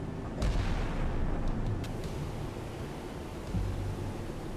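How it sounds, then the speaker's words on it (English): A naval 127 mm gun firing in the naval combat video game Sea Power: two heavy low booms a few seconds apart over constant hissing background noise, with no talking. "We're getting close enough to fire the 127."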